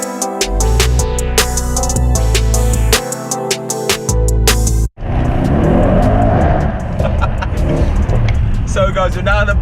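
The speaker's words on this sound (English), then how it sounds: "I've got the best chauffeur in the world who is orchestrating my V8 symphony." A Mercedes-AMG E63 S V8 engine pulls loudly and steadily while driving, a continuous roar with a droning, tonal first half that breaks into a rougher, broadband rush of engine and road noise.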